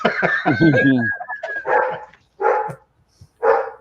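A dog barks several times in short, loud, separate bursts spaced about a second apart, following a stretch of nearby talk; the barks stand alone in a quiet indoor setting.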